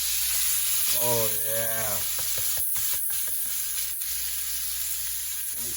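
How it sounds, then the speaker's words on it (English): Freshly caught fish dropped into butter in a hot pan on a stove, a loud broad sizzle with brief clatters of handling, as someone briefly speaks over it. "got a little butter added to the pan"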